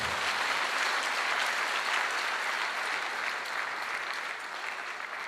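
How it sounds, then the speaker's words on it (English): An audience at a memorial service claps steadily and loudly for several seconds, a dense wash of applause with no break. "Let's give Mama a better clap."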